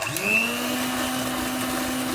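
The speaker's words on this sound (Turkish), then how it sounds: "Ve mikser yardımıyla çırpacağım şeker ve yumurtaları çırpmaya başlıyorum." An electric hand mixer whirs steadily while whisking sugar and eggs for brownie batter, a close, continuous whine that holds an even pitch with no one speaking.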